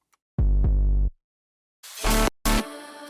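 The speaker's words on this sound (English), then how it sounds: "And then we have the 808." Deep 808 bass notes in a drum and bass track boom in short sustained hits, two low tones followed by a pause, then a couple of brighter, distorted bass hits.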